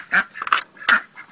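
Ducks in a duck pen give several loud, close quacks in quick irregular bursts, with short gaps between calls.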